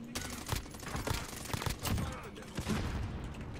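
Gunfire in the video game Warzone crackles in rapid bursts of sharp shots, a dense fusillade close and continuous across a few seconds.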